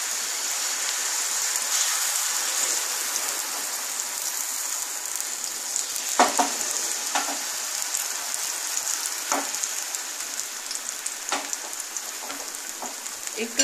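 Batter for spicy egg patishapta sizzling and frying steadily on a hot pan over a lowered gas flame, a continuous crackling hiss with a few sharper pops, close and moderately loud with no talk.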